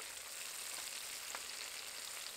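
Spice masala of salt, turmeric, Kashmiri chilli, cumin and coriander powders frying in oil for stuffed bitter gourd, a continuous, even, close hiss with no voices.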